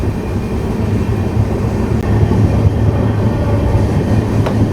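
Weekly express train on the Kanniyakumari to Pondicherry route at a quiet station, a loud steady low rumble of rolling railcars with faint clicks, continuous throughout with no voices.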